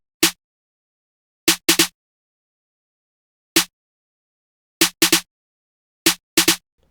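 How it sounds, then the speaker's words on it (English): A short, dry accent snare programmed in FL Studio for a beat strikes in an irregular, syncopated pattern of single hits and quick doubles and triples, each crisp and clipped, with silence between. "Then I had the second snare pattern, just like more of an accent snare"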